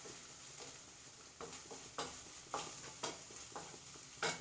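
Onions and curry leaves frying in a pan, a steady sizzle broken by several sharp bursts as the mixture is stirred and tossed, close and fairly quiet, with no talking.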